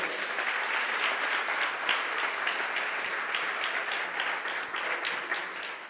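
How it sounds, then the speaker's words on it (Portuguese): Church congregation clapping steadily, a thick, even roar of many hands sustained throughout at moderate loudness with no speech over it. "Você pode aplaudir o Senhor?"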